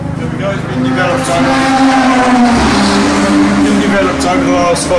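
A Mazda RX-8 race car fitted with an RX-7 FD rotary engine revs loudly and close by, its raspy drone rising and falling while someone talks over it.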